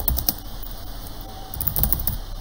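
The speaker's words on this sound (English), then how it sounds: "and then you can start typing" Someone types on a computer keyboard while building a WordPress page, giving a short run of light, close key clicks over a quiet background hum.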